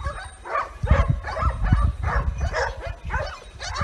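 Hunting hounds bark during a hunt with hounds in Spain, with repeated loud yelping barks in quick, uneven bursts that overlap at moderate distance.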